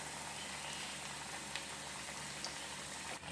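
An egg snack fries in hot oil in a small pan, giving a faint, continuous bubbling sizzle with a few soft pops and no voices.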